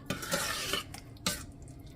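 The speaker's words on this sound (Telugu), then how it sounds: "సో పాలు పోసుకున్న తర్వాత ఒకసారి కలుపుకోవాలి." A utensil stirs ridge gourd curry in a pan just after milk is poured in, making a few quiet scraping strokes with brief pauses, close and soft.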